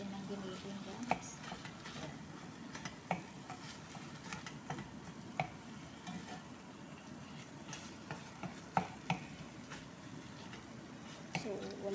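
Ground meat stirred in a pan while cooking a Filipino dish, with steady soft sizzling and scraping under low background noise and occasional sharp utensil clicks against the pan.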